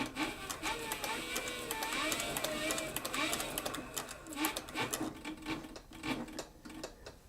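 Industrial leather sewing machine stitching through leather, a dense rapid mechanical ticking and whirring that runs steadily for several seconds at close range, with faint room noise behind it.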